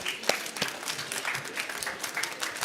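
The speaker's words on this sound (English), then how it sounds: "Maybe give a round of applause to our panel." Steady applause from a conference audience for a panel, many hands clapping together at a moderate distance, continuing throughout with a few sharper claps standing out.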